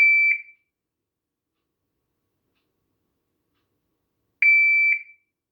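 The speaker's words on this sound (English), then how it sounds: "so the first initial beep, and then you'll get a second beep" A Pact Club Timer 3 shot timer gives a short pair of sharp electronic beeps at the start, then goes silent for about four seconds before a second loud, close pair of beeps.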